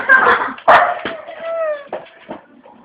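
A frightened dog gives a few short, close barks and yips, with a whimpering tone between them and some background voices.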